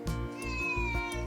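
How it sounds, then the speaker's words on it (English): A cat meows in a long, drawn-out wavering call, close and fairly loud, with no talking over it. "Aren't you coming in, kitty cat?"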